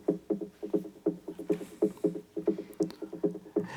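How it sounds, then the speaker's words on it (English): A percussion loop in a big room techno track made in FL Studio plays as a tight, repeating pattern of clicky, woody hits with a bouncy groove, mid-level and alone. "I always love to put percussion loops like this in the background"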